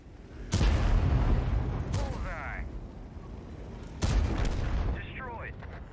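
Tank cannon fire in the tank battle game Steel Hunter: two heavy booming shots about three and a half seconds apart, each followed by rumbling decay and a short warbling electronic tone, close and loud.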